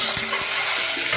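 Onions frying in a pan for a cabbage curry, a steady close sizzle with faint soft stirring bumps and no talk.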